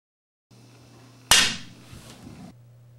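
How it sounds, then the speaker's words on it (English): A billiard cue tip miscues on the ball just beyond the original tip offset, with sliding or secondary contact from the tip or ferrule: a single sharp, close click-crack that decays quickly against a steady low background hum. "Here we're getting a miscue hitting just beyond the original tip offset position."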